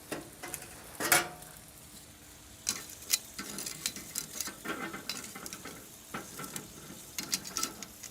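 Clams, each about a pound, sizzle and bubble on a grill in a BBQ paella pan, a steady soft frying hiss broken by scattered pops and crackles, with no talk.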